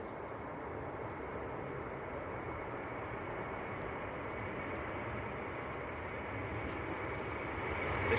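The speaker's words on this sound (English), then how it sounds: "here we go, Aer Lingus A330" An Aer Lingus Airbus A330 jet at Manchester Airport produces a steady, distant broadband engine roar that holds evenly throughout and swells slightly near the end.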